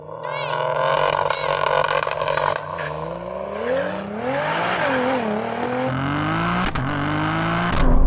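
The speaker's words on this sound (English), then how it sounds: "Lots of turbo noise there." A turbocharged 600 hp Toyota GR Yaris engine revs and whirs loudly during a drag race, with rising and falling pitch, a turbo whine and scraping textures throughout, intensifying near the end.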